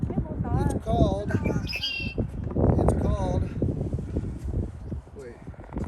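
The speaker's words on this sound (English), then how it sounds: "It's called a red-winged blackbird." Outdoors near the Stillwater Lift Bridge on a windy, rainy day, a red-winged blackbird gives several short, trilling calls under close, ongoing conversation and wind noise.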